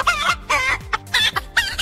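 A chicken clucks in a quick, loud series of about six close, raspy bursts with brief gaps between them, heard alone.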